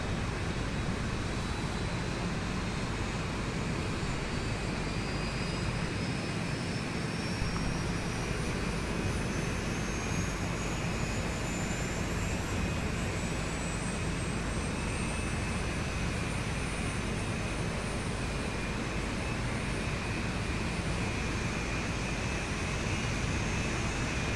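A Boeing 737-800 jet engine spooling up in the X-Plane 11 flight simulator, a loud, continuous broadband roar with a slowly rising whine climbing steadily over about twenty seconds, with no voices.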